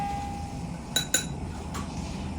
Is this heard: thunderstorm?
no